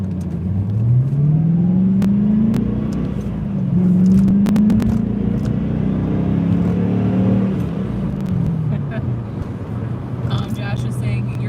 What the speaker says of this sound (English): I'll let you guys listen to the acceleration here and tell me what you guys think.